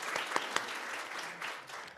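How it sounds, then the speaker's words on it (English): Applause from an audience at a spring graduation pinning ceremony for education graduates, a steady patter of many clapping hands at moderate distance, filling the whole short clip without speech. "let's give him a round of applause"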